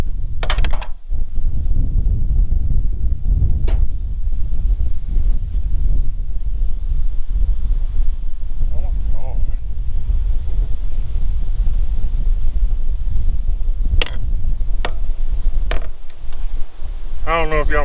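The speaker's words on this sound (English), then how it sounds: "it's so windy" Strong outdoor wind buffets the microphone, a loud continuous low rumble filling the whole stretch, with a few sharp clicks and a voice heard briefly near the end.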